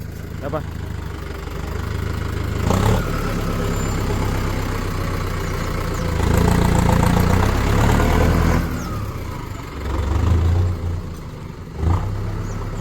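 A tractor engine idles with a low chugging rumble, briefly revving louder a few times while people talk over it.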